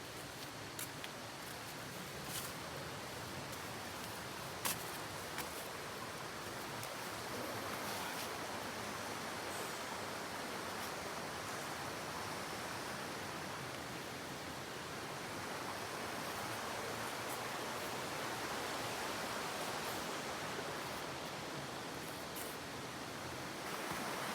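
A river flows through a forest in a steady, broadband rush of water that continues unbroken at an even, moderate level, with faint rustling over it.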